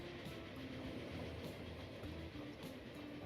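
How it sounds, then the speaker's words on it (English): A long train rolls steadily through a Transport Fever 2 railway scene, a continuous close rumble with faint clickety-clack from the wheels and no voices. "A nice long train."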